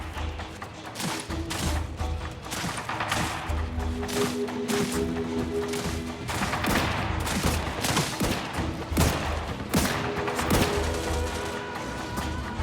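Sustained gunfire in the sci-fi shooter game The Outer Worlds 2: dense, overlapping bursts of rapid shots and impacts fill the whole stretch, loud and close, with a faint low hum beneath.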